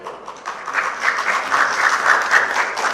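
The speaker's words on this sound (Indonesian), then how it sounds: "Tepuk tangan yang meriah untuk seluruh pasangan calon kita pada siang hari ini." Lively audience applause for the candidate pairs at a public debate for regency head candidates in Minahasa Selatan, a thick sustained patter of many hands swelling slightly in loudness, with no talk over it.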